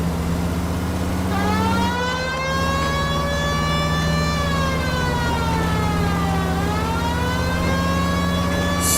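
Police car siren wails in L.A. Noire, a loud continuous rising and falling tone over a steady car engine hum, close and dominant throughout.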